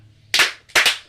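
Two sharp, loud hand claps from an audience, about half a second apart, each a crisp isolated crack over a quiet room.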